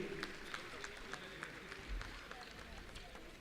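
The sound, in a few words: applause for students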